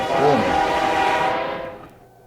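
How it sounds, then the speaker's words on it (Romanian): A loud train horn blares over the rumble of a passing train in the video game Suicide Guy, holding a steady tone before fading out at the end. "Și acum va trebui să așteptăm alt tren."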